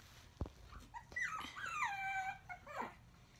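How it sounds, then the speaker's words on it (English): A small puppy whimpers softly in a quiet room, letting out a thin rising whine after a faint knock, followed by a shorter yip-like whimper. "She's a bad little dog."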